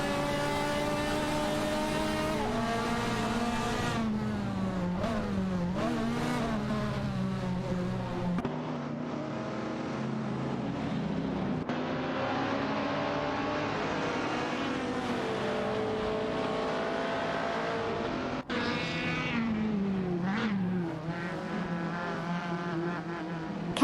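Race cars including an Alpine A110 1800, a Lancia Stratos HF and a Porsche 904 roar through an AI racing video game, engine tones rising and falling in pitch as they accelerate and shift, loud and continuous without talk.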